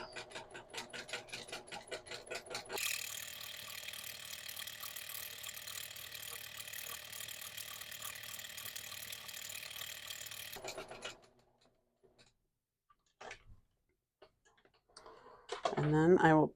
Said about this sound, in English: I'm going to put it in my machine and sew as normal.